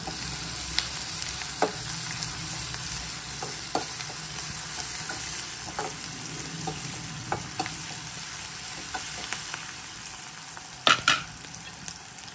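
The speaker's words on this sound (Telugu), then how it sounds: "పసుపు వేసి కొంచెం ఫ్రై కావాలి." Mutton liver fries in a pan with turmeric and salt, giving a steady close sizzle with occasional stirring scrapes and clinks throughout.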